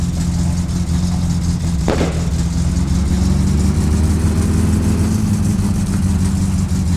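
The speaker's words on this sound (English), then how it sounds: "Oh yeah, the car's driving." The Satsuma car in My Summer Car drives along with a steady, loud engine drone and road rumble, one brief thump near the start, no talking.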